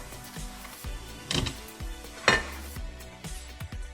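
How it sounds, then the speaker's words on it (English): A knife slices into a chilled keto peanut butter pie, with soft cutting and scraping followed by a few sharp clinks of metal against the dish, close and without talk. "I'm gonna cut a slice"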